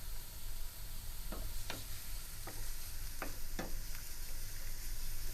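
Onions and green chilies sauté in coconut oil with spices for a South Indian eggplant curry, giving a steady close sizzle broken by several sharp scrapes and taps of a stirring spoon against the pan, with no talking.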